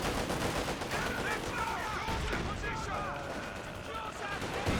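Katyusha rocket artillery barrage in the strategy game Company of Heroes 2, a dense continuous roar of gunfire and rumbling blasts filling the whole stretch, loud and unbroken, with a voice talking over it.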